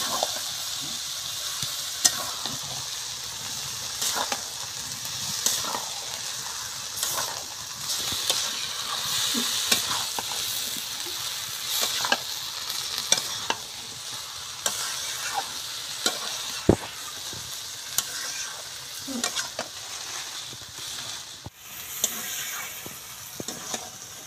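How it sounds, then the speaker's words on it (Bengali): Lentils and chicken being stir-fried in a wok sizzle continuously and fairly softly, broken by repeated scraping and clacking strokes of a spatula at an uneven rhythm. "ডালটা এবারে কড়াইতে দিয়ে একসাথে ঠিক 5 মিনিট কষতে হবে"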